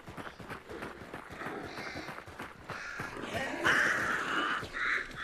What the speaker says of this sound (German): Also das Krähen hast du doch gehört, oder? Von den Krähen.